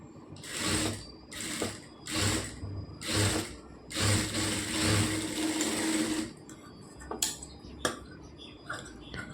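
A sewing machine stitches the neckline of a chudidar in several close, rhythmic bursts of rapid mechanical clatter separated by brief pauses, then a few softer clicks and taps at the end.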